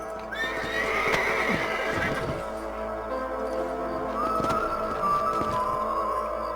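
In a video game, a horse whinnies loudly, then hooves clip-clop in a steady trot, and a second neigh rises later over the hoofbeats.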